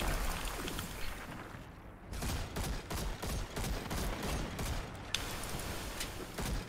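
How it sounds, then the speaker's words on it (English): Rapid bursts of gunfire in a shooter game, with a soldier firing through a barricade while snipers cover. Dense, overlapping shots come fast and loud, one brief lull breaking the stream before the firing resumes. "He's shooting through the barricade"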